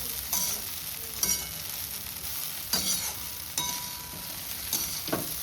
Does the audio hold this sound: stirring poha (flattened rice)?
yes